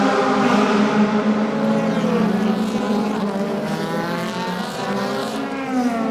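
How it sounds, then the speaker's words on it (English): Mercedes-Benz and BMW DTM race cars battle at Moscow Raceway, their engines giving a loud, continuous high-revving roar with rising and falling pitch as the cars accelerate and shift. "Good battle down the field between the Mercedes-Benz and the BMW."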